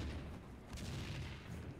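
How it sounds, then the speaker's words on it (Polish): Exploding barrels in the Max Payne 2 video game, heard as a dense, continuous rumble of blasts and crackling fire that stays loud and steady throughout. "To wybuchało. Wybuchające beczki zatytułujemy odcinek."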